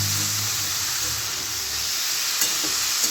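Boiled pumpkin greens tipped into a hot pan, with a dense, steady hiss and sizzle throughout and a couple of faint clicks near the end, close and alone.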